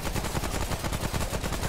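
A gun firing fire ammo in the video game Remnant: From the Ashes lets off a rapid, steady stream of shots, a short close burst of automatic fire with no talk.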